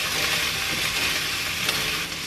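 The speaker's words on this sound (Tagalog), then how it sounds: "Ginigisa ko na siya along with yung baboy." Onion, garlic and ginger sauté with pork in a pan for Bikol laing, making a steady, close, loud sizzle that stays even and unbroken throughout.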